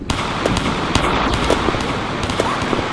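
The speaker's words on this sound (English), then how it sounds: "You gotta shoot the tank!" Rapid gunfire at a tank in a World War video game, dense loud bursts of crackling shots firing in quick succession with blasts under a continuous battle din.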